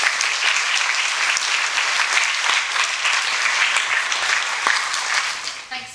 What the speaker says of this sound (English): Would you please join me in giving her a warm round of applause?